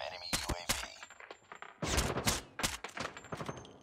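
Wallbang gunfire in Call of Duty Mobile, a string of sharp shots in irregular bursts, some rapid and clustered, close and punchy with quiet gaps between.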